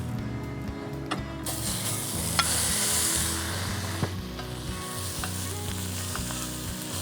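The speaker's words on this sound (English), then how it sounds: "we're going to start by frying the bacon" Bacon sizzles and spits steadily in a cast-iron Dutch oven, with occasional sharp clinks and scrapes of metal over the constant frying crackle.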